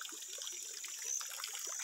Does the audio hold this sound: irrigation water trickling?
yes